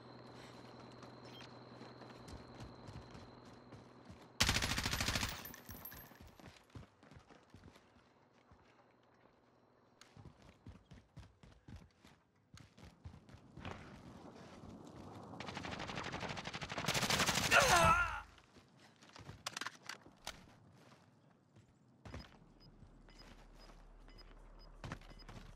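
Gunfire bursts in the game Call of Duty: Warzone, with two loud sustained volleys standing out against scattered shorter shots and footsteps, under a quiet background with a few voices.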